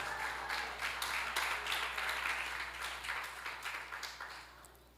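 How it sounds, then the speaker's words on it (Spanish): A church congregation applauds a speaker: a spread of quick claps that swells, holds steady, then gradually thins and fades, moderately distant. "recibamos con un aplauso a nuestro hermano Ruiz nuevamente"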